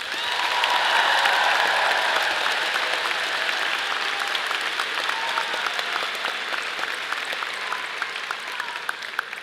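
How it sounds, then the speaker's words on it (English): A university convocation crowd applauds university housing staff, a sustained wash of clapping that swells early and then slowly thins over several seconds. "Please give them a huge round of applause."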